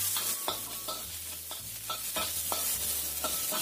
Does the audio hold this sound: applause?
no